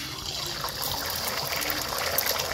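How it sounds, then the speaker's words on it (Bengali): Beaten eggs poured into hot oil in a pan, giving a continuous bright sizzle and crackle that holds at a steady moderate level, close and alone without talk. "এই যে দুটো ডিম আমি খুব সুন্দরভাবে মামলেট করে নিয়েছি। এইবার গরম তেলে দিয়ে দিব"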